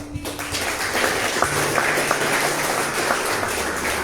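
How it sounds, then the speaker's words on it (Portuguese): Applause from a small group during a charismatic evening prayer live stream, a steady patter of clapping with a few louder individual claps, over a low background hum. "Vamos dar uma salva de palmas para esse irmão aqui."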